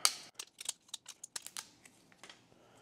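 A 3D printed part has its brim peeled away in a quick series of small crisp crackles and snaps, close and fairly quiet, with no talking over it.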